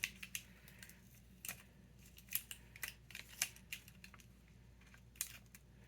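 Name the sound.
cutting the craft kit box by hand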